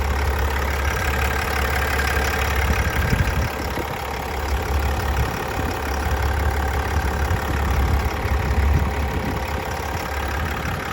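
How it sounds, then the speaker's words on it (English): The diesel engine of a new GMC Yukon XL Denali idles with a steady low rumble and light knocking clatter, heard close up and continuous, with no talking. "Sounds like a diesel."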